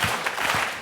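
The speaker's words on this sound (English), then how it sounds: "we're going to give them a clap" Short burst of audience clapping during an afternoon keynote, a few quick claps close together, moderately loud and brief.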